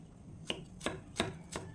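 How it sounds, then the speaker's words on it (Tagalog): A knife slicing onion and a little ginger into small pieces on a board, four crisp, evenly spaced chops close by, quiet and alone. "Slice ko siya ng maliliit para pwede siya kainin"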